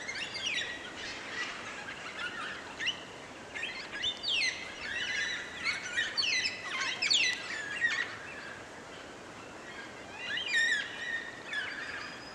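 A noisy flock of cockatoos in the Waroona area, calling in repeated harsh screeches from moderate distance, some calls overlapping, with no talk.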